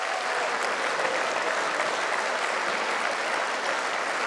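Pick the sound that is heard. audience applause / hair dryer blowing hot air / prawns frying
audience applause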